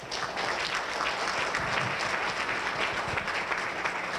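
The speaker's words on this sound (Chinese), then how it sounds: "那我们替自己鼓掌好不好？" At a product launch for a 3D printer, an audience applauds, a continuous, full roar of many clapping hands that holds steady throughout without a break.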